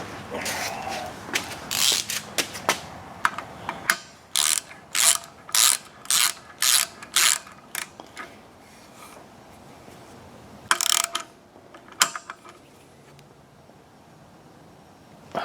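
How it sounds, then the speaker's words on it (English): A wrench ratchets repeatedly while tightening a Victor SR5B gas regulator, giving a steady run of close, sharp clicking strokes, then a pause and a few more isolated clicks. "then we can take a wrench and tighten it up."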